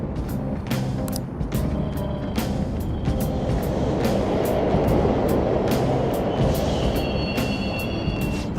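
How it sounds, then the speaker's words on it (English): Subway trains run through a tunnel in Persona 5 Royal, giving a continuous heavy rumble with repeated sharp clicks and a brief high metallic squeal near the end, with no voices over it. "The trains are totally running!"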